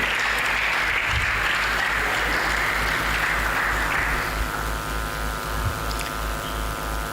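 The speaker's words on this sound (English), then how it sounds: "Please, a round of applause for Dr. Samuel Idowu Adebola" Audience applause fills a hall at a techpreneur conference, a dense, steady wash of many hands clapping throughout. It eases slightly toward the end as scattered individual claps stand out.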